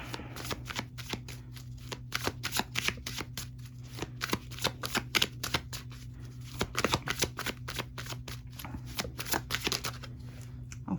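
A tarot deck is shuffled steadily, close and quiet, with a rapid patter of card clicks and soft slaps over a faint constant hum and no voices.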